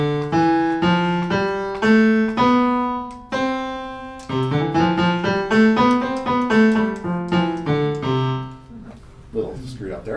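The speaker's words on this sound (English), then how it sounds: "It's called the major scale, and it sounds like this." A major scale played as a run of clear, sustained pitched notes that climbs and then descends, about sixteen even notes in steady rhythm with a slight fumble near the end, loud and close with no talking.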